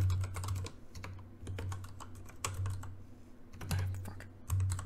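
Fast typing on a computer keyboard sounds close and clear, with bursts of rapid key clicks separated by short pauses and a low hum in the background.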